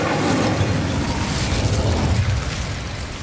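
Incendio fire spell cast in Hogwarts Legacy, a loud, continuous roaring whoosh of flame that holds steady for a few seconds and then eases off slightly.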